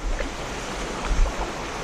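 Water of the river at Little Falls, running high, flows past with a steady broad rushing wash and occasional low gusty rumbles, close and loud.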